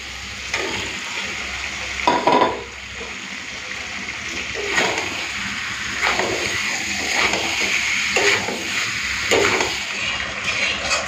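Fried potatoes go into a pan of chicken curry, which sizzles steadily. A spoon scrapes and stirs it again and again in uneven bursts. A louder splashy clatter comes early on, and there is only a little talk.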